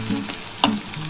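A brief stretch of ivy gourd sizzling in a pan with poppy seeds, a constant close frying hiss with one sharp stirring knock partway through.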